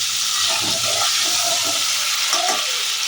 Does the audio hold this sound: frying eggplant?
yes